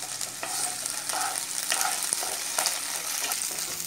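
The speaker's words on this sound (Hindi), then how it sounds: "अब हम इसमें डालेंगे अदरक और लहसुन की पेस्ट और इसको हमें चलाते हुए तब तक के फ्राई कर लेना है" Ginger garlic paste fries in oil while being stirred in a pan for restaurant-style chicken changezi, giving a constant close sizzle broken by soft spoon scrapes.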